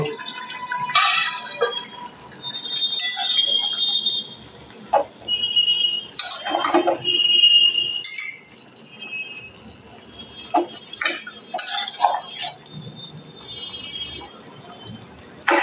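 Pot lid lifted off a pan of broccoli, potato and cauliflower boiled together: several light metallic clinks and scrapes amid drips, watery clatter and a brief whistle-like ring, close and moderately loud, with no talking.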